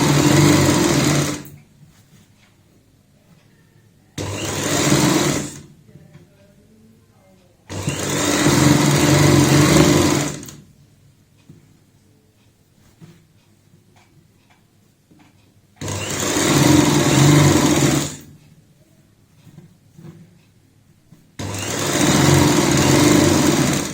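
A sewing machine stitches a baby frock for a five-year-old in five loud, close bursts of steady whirring, each lasting one to three seconds, separated by quiet pauses.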